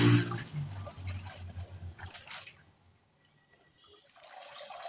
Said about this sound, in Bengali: পরিষ্কার পানি বেরিয়ে গেছে